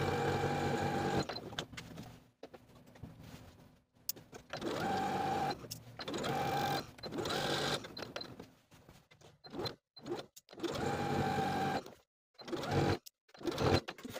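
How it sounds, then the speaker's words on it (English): A sewing machine edge stitches a pocket onto a jumpsuit piece in repeated bursts of rapid, close mechanical whirring, stopping and starting with short silent pauses between runs. "edge stitching along the side and bottom edges until I'm back at the opposite top corner, once again backstitching to secure"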